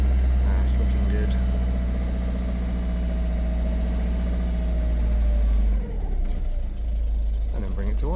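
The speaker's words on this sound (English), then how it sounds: "I'm holding the revs around 2000." A Ford C-Max 1.6 TDCi diesel engine held at raised revs around 2000 after a fuel filter change, a steady loud drone close up, easing briefly near the end.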